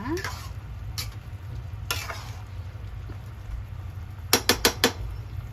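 Chicken adobo simmering in a pot, a low steady bubbling hiss with occasional utensil clinks and a quick run of four sharp taps near the end.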